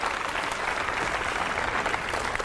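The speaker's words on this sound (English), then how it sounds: "Did you just applaud for that?" Brief burst of audience applause at a spiritual talk, moderately loud and steady, with no voices over it.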